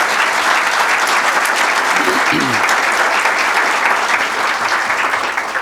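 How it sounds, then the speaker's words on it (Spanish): Loud, sustained applause from a seminar audience at a university event, continuous clapping throughout with a brief tonal sound briefly breaking through the middle. "Vamos a darles un fuerte aplauso."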